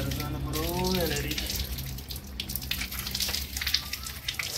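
Cold water runs steadily from a stone spout beside a Shiva temple near Nilbarahi on the Kathmandu–Bhaktapur route, a continuous close splashing gush with a voice speaking over it at the start.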